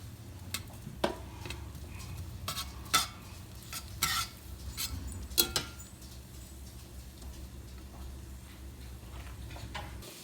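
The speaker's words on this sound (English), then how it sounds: "We're going to let these guys saute for a little bit." Onions sautéing in butter in a pan, a soft steady sizzle under intermittent clinks and scrapes of a utensil stirring, close and with no talking.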